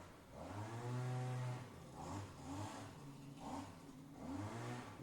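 Two-stroke leaf blower running outside, faint and distant, its engine surging up and down in several repeated revs with a buzzing harmonic whine.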